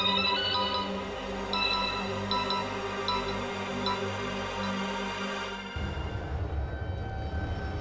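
A telephone rings with a repeating electronic ringtone, steady and fairly loud for several seconds, then cuts off as a low rumbling background takes over near the end; no one speaks.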